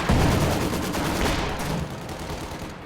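Artillery fire in the Company of Heroes 2 strategy game, a dense barrage of booming blasts and crackling gunfire rolling steadily and loudly throughout with no voices over it.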